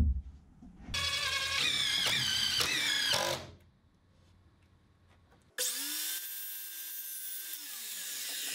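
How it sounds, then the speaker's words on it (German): A power drill-driver screwing a front panel onto a wooden counter, two bursts of whining motor with rising and falling pitch separated by a quiet gap, close and fairly loud. "Jetzt wird die Front angeschraubt und dann die Aluwinkel für die Kanten zugeschnitten."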